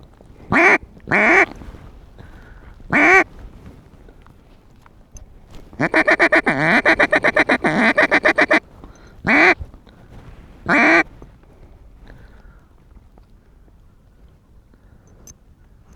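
Mallard ducks quack loudly in repeated bursts over a dry field during a duck hunt, with short single calls and a longer rapid run of quacks in the middle, close and clear against a quiet background.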